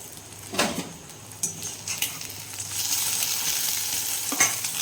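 Eggs fry in a pan with a steady crackling sizzle, broken by a few sharp clicks and scrapes of a utensil against the pan.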